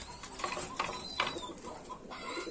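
Lahori pigeons at a pigeon farm in Cumilla coo and flutter in short, close bursts against a quiet barn background, with some birds calling over others.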